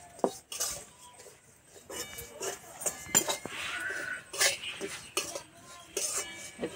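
Sesame seeds dry-roasting slowly in a pan, heard as intermittent metallic clinks and scrapes of a utensil stirring against the pan at close range, with a soft crackle between strokes.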